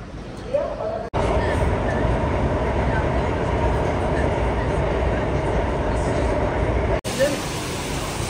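A Singapore MRT metro train, a steady loud rumble of the ride with clear edits at both ends and speech over the noise.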